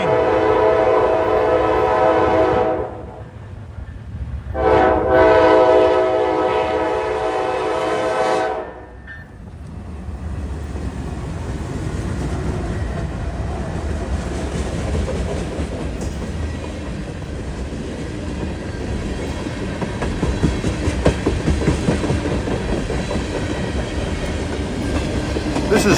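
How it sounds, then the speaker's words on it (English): A Norfolk Southern freight train of empty ethanol tank cars passes in eastern Pennsylvania, opening with a loud horn blast broken by brief gaps, then a steady rumble and clatter of wheels on rails that continues close by. "This is NS train 65T, which runs out of Port Richmond in Philadelphia to Decatur, Illinois. It's a train of ethanol empties."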